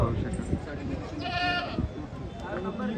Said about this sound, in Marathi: ही खाली बसलेली शेळी आहे पाहू शकाल